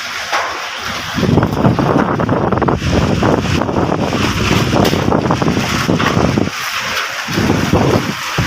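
A sudden windstorm roars across the microphone in heavy, gusting blasts that swell and ebb for several seconds, loud and close, with no voices heard.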